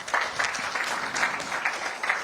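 Audience at the NSMQ 2023 national championship launch clapping steadily for a couple of seconds, a dense even patter with no voices over it.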